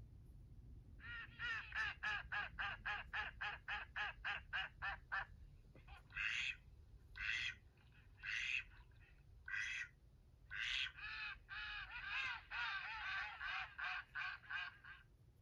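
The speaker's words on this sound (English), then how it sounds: "Duck." A domestic duck quacks loudly and close, first in a rapid run of a dozen evenly spaced quacks, then in spaced single and paired calls, ending in another quick burst.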